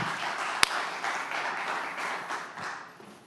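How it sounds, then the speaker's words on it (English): Sustained applause from a summit audience, a dense steady wash of clapping with one sharp loud clap near the start, fading slightly toward the end. "Give a big round of applause to Marty."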